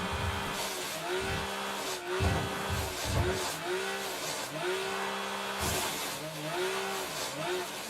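Snowmobile engine in the battle-royale game PUBG, a loud continuous motor drone whose pitch rises and falls repeatedly as it revs, with brief dips and surges throughout.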